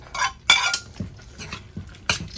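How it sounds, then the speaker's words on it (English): A spoon scrapes and clinks against a pan while shrimp are stirred in creole sauce, several sharp metallic knocks and soft scraping strokes at an uneven rhythm, close and fairly quiet with no talking. "I'll stir that around, make sure everything is covered"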